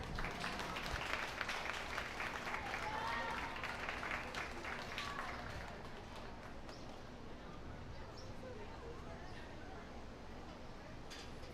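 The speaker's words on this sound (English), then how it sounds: "Can I have a round of applause for Eva?" An audience claps steadily at a 4-H bucket calf and dairy show, a dense wash of applause that gradually thins and softens toward the end.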